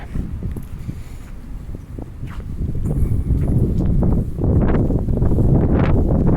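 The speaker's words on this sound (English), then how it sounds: "A little breezy right here." Gusty outdoor wind buffeting the microphone in downtown Halifax, rumbling low and growing stronger toward the end, with scattered soft knocks underneath.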